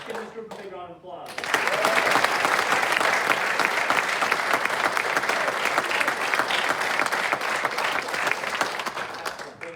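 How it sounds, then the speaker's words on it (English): After a brief spoken voice at the start, an audience at a senior awards ceremony breaks into sustained, full applause that holds steady for roughly eight seconds. "Give this group a big round of applause."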